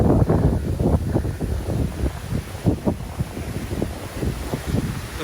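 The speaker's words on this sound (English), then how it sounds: "Check out the wind." Gusting wind roars during a winter snowstorm, with repeated low buffeting bursts on the microphone throughout, loud and close, with no voices.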